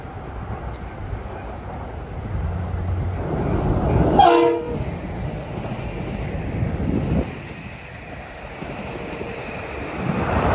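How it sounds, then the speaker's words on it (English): Commuter train on the New Haven line passing the station at Mamaroneck, a rumbling rolling roar with a short horn blast midway, moderately close, amid background noise and faint voices. "here comes 1346, a local, New York to Stamford"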